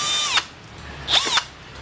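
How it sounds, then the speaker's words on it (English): A power drill drilling out a rivet on a 2005–2010 Jeep Grand Cherokee front seat cover, two short close whining bursts of the bit spinning up and biting, with quiet between them. "so we're just gonna drill that rivet out."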